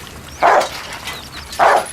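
Dogs at an attack scene let out two loud, close barks about a second apart, with quieter yelps and whimpers between them.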